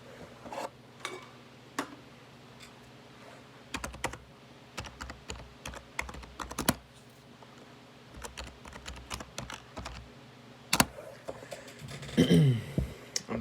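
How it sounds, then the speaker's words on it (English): Keys clatter on a computer keyboard in irregular bursts of rapid clicks with short pauses, close by and fairly quiet. "you heard the clickety-clackety-clack of my keyboard"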